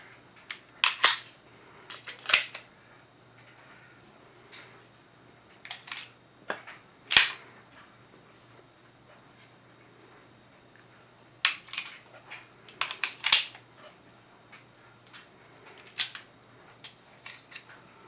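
Handguns being handled during a safety check give sharp metallic clicks and clacks, with single snaps and short rapid clusters spread across the clip, fairly close and with no voices.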